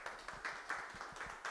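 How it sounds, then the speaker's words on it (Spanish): A church congregation claps in a faint, distant, rhythmic pattern, evenly spaced hand claps repeating for a moment with no talk over them. "Le damos un aplauso al Señor"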